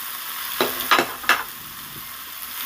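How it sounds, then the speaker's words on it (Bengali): Fried okra and potatoes are stirred with spices in a hot, oily pan: a steady soft sizzle with three quick scraping stirs close by early on, then quieter frying, with no talk. "ভেন্ডিগুলো একসাথে আলু মশলার সাথে সুন্দর করে আমি দু থেকে তিন মিনিট কষিয়ে নেব"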